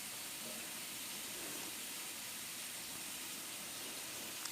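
Small anchovies (nethili) frying in a pan, a steady, even sizzle and hiss that holds without break at moderate loudness, with no talking.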